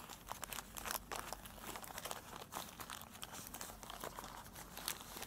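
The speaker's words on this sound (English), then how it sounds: "We pack it with the oil paper." Oil paper wrapped around a diesel injector control valve assembly crinkles and rustles in close, quiet handling, with irregular bursts of crackling across the whole stretch.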